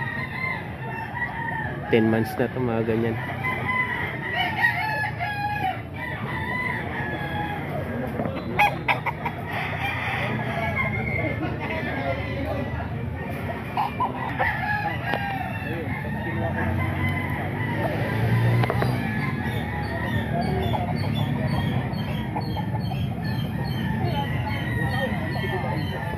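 Roosters crow and hens cluck among a crowd of gamefowl at a chicken seller's place, with loud, steady barnyard noise and people talking throughout.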